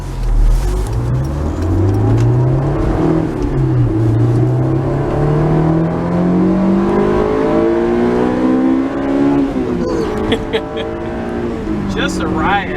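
A 2002 Honda S2000 roadster with a six-speed manual revs out hard under acceleration, its engine note climbing steadily through a gear in a loud, rising wail with a shift near the end.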